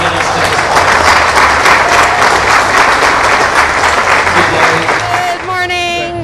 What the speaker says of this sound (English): Please, let's have a round of applause for everyone who has helped to get us to this point.